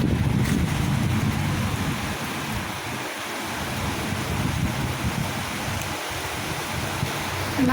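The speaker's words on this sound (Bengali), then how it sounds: "তারপরে দেখি এই যে বৃষ্টি শুরু হয়ে গেছে।" Rain falls steadily with gusting wind outdoors, a dense, even rush of noise with low rumbling buffets, no voices.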